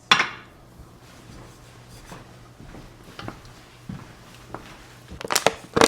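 A spoon stirring black pepper and seasoning in a bowl, scattered light scrapes and clinks of utensil against the dish, with a few louder knocks near the start and end, close and fairly quiet.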